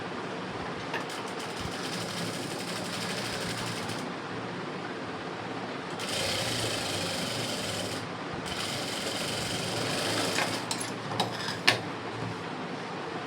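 An electric sewing machine runs in steady bursts while stitching around the neckline of an embroidered blouse, a continuous close mechanical whir that pauses briefly between runs, with no talking.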